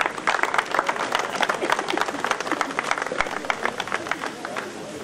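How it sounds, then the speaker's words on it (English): Wedding guests applaud a speaker joining the toast, a dense steady round of clapping from a crowd with some voices mixed in, sustained and fairly loud throughout. "Can we welcome him with a round of applause,"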